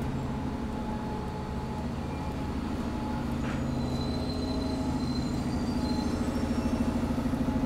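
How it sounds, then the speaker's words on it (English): A New York subway train rumbles through the elevated 30th Avenue station in Astoria, a loud steady roar with rhythmic wheel clatter building toward the end, heard from street level beneath the tracks. "The 30th Avenue subway station"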